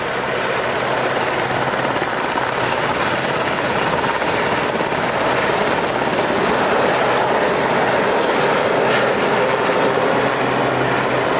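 Sea King helicopters landing during a commando assault display at Yeovilton Air Day 2013, a loud, continuous rotor and engine roar filling the whole stretch with no talking.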